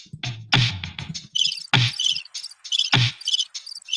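Crickets chirp in close, bright trills, with some louder broadband clicks and bursts mixed in.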